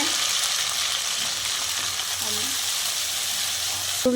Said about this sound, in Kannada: ನಾವು ಯೂಸ್ ಮಾಡಿರೋ ಎಣ್ಣೆ ಕಡಲೆಕಾಯಿ ಎಣ್ಣೆ ಇವಾಗ ಮೊದಲಿಗೆ ಹಸಿರು ಮೆಣಸಿನ್ಕಾಯಿ ಹಾಕ್ತಾ ಇದ್ದೀವಿ ನೆಕ್ಸ್ಟು ನಾವು ಸಣ್ಣದಾಗಿ ಇಟ್ಟಿರೋ ಪುದೀನ ಸೊಪ್ಪು ಹಾಕ್ತಾ ಇದ್ದೀವಿ